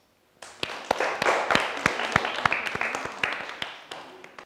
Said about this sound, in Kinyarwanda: Mwihe amashyi menshi.